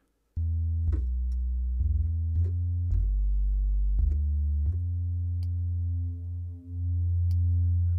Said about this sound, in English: Now you'll hear with the sine wave